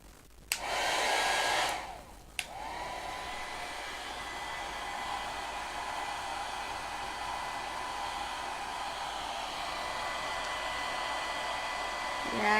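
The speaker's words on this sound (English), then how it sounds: "let me get the blow dryer a minute because we don't want all this to rub." A handheld blow dryer switches on with a click, runs in a loud whoosh, cuts out with another click, then runs again as a steady, slightly quieter airy roar to the end.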